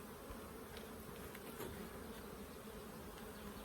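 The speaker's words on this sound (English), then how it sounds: "It's absolutely full of bees." Dense, constant buzzing drone of many honeybees packed into a full hive split, an even hum with no pauses and no voices over it.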